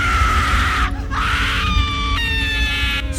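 A woman screams hysterically from the seats at the back of a train carriage, a sustained high wailing cry with a sharp break near the middle, then resuming in strained, pained sobs, loud and close.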